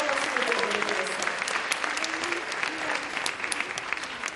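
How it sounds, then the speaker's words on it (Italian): An audience at a science festival in Naples applauds a performance by Honda's ASIMO humanoid robot, with steady, dense clapping that holds throughout and faint voices underneath. "Giusto un applauso perché è una performance questa."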